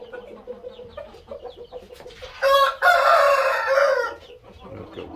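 Gray roosters and chickens in a rooster coop: soft clucking and scattered calls, then a loud, close crow that swells and trails off over a few seconds.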